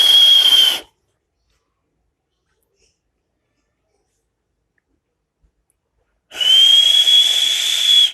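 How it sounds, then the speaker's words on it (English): Whistling with a single finger and no fingers in the mouth: two loud, steady, high-pitched tones, one short and one longer, separated by a long silence. "You can use any one finger to perform whistle like index finger or a pinky finger or any other one."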